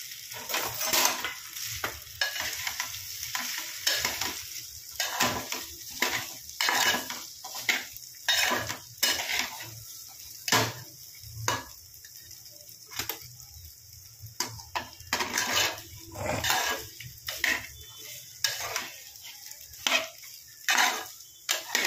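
Peeled, chopped potatoes for aloo paratha filling are stirred and tossed in a pan, a spoon clattering against the metal in frequent irregular scrapes and knocks over a faint sizzle, with no voices.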